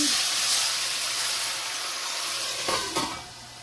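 Dry white wine sprinkled into a hot pan, giving a soft, steady hiss of sizzling that briefly flares near the end, fairly quiet and close.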